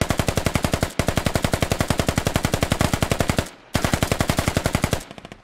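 An AK rifle in a video game fires long rapid automatic bursts, a loud and even rattle of close shots with a brief gap near the start and a pause before a final burst that trails off.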